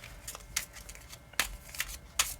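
A deck of playing cards is shuffled up close in a quiet room, with several short riffling bursts separated by brief pauses.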